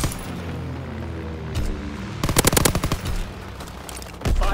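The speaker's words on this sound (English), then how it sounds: "Firing primary battery." Rapid automatic gunfire in the World War II shooter Call of Duty WWII, a dense burst of close shots over a steady game background, with scattered single shots before and after.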